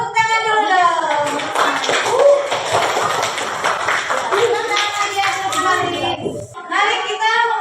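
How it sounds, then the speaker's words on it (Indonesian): Children in an Indonesian primary classroom clap their hands together in a sustained burst of applause, dense and close, with a teacher's voice and kids' chatter mixed over it before it settles. "Ya, tepuk tangan dulu dong."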